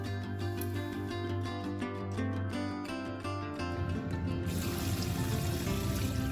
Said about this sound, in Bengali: রাতের জন্য চালটা ধুয়ে ভিজিয়ে রাখছি